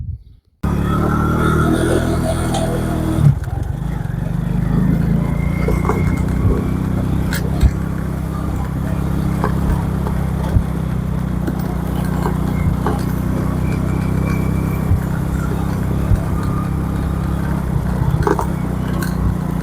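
A car drives along a road past barley fields at harvest time, giving a steady, close engine and road rumble that runs without a break after a brief quiet start.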